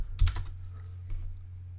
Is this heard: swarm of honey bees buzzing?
no